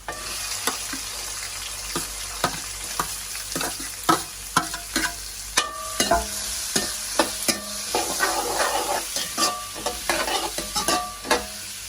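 Onions and green chilies sautéing in a pan, a continuous sizzle broken by repeated sharp scraping strokes of a spoon stirring at a steady rhythm, close and clear with no speech.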